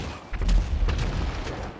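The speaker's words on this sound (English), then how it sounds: "I'm gonna do an explosion" A single deep boom from an explosion in a video game, a dull thump that swells and then rumbles on for over a second, with no voices over it.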